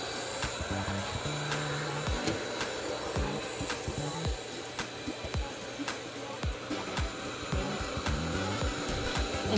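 A Uoni S1 robot vacuum cleaner runs with a steady whirring motor hum, close and continuous, punctuated by small repeated clicks and bumps as it moves.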